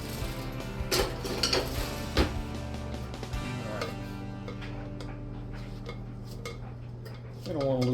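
Cookie dough for cinnamon brown sugar oatmeal cookies is scraped from a mixing bowl, giving soft scrapes and several sharp clinks of a utensil against the bowl, close and fairly quiet.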